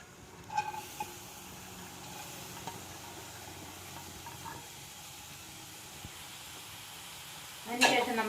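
Vettukathi payaru (broad beans) sizzling as they go into a hot pan for thoran, a faint, low hiss throughout with a few soft clinks and a brief louder crackle near the end.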